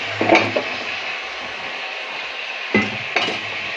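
Sliced eggplant tipped into a pan of Chettinad chickpea curry and stirred, giving a couple of soft clattering scrapes of spoon against pan early on, then two more short stirring knocks later, over a faint steady background hiss.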